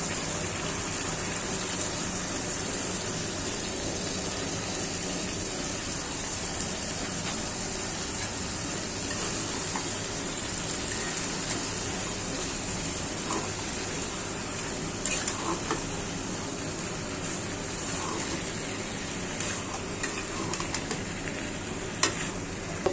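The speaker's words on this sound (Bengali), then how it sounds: "আমার মশলাটা কষানো হয়ে গেছে, তেল উঠে গেছে, এখন এই বটগুলো দিয়ে দিব।" Beef tripe frying in cooked spice paste in a pan, a constant close hiss and sizzle broken by occasional scraping clicks from stirring, running steadily and alone for over twenty seconds.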